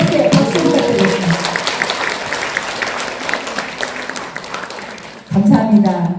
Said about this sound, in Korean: 아름다운 시를 주신 우리 시인님께 다시 한번 뜨겁게 박수 부탁드리겠습니다